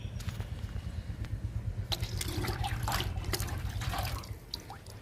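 Liquid fertiliser splashes and trickles from a container onto the soil around three drumstick plants, a close, gurgling pour with scattered drips over a low background hum.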